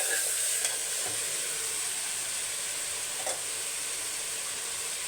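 Food being stirred and mixed in a hot frying pan for chicken biryani, with a steady background sizzle and hiss and occasional soft scraping clicks of the spoon, no talking.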